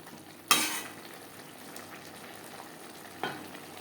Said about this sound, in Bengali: মিডিয়াম টু লো ফ্লেমে মশলা বেশ ভালো করে কষিয়ে নেওয়ার পর দিয়ে দেবো জল